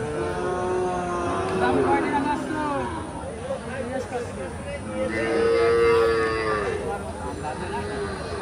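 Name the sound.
cattle and bull calves at a cattle market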